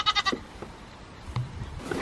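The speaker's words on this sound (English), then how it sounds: "Well, you boys are super chill goats." Goats on a small farm bleat in a quick burst of three or four wavering calls at the start, followed by quieter shuffling and rustling nearby.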